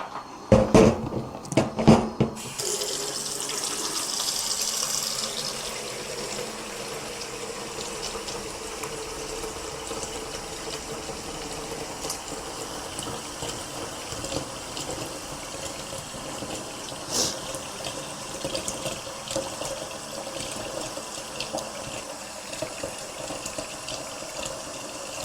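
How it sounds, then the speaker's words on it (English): Water poured into a pot over already-cooked protein while making okra soup, a steady rushing stream after some brief clatter at the start, continuing evenly and fairly close with no talk. "in here I'll add a little bit of water"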